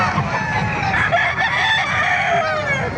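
Chickens cluck and a rooster crows loudly and close by at a poultry market in Calumpit, Bulacan, several birds calling over one another without pause.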